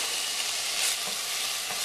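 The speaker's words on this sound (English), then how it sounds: "You want to be sure to keep stirring that around in there." Minced garlic and caramelized onions sizzle steadily in a soup pot, a close, even hiss of frying with faint stirring movements beneath it and no speech.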